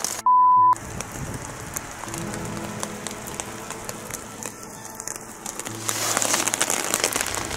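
Rain patters steadily on a tent during wild camping in horrendous wind and rain, a dense hiss that swells louder toward the end, with a brief silent gap near the start.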